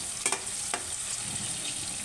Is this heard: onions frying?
yes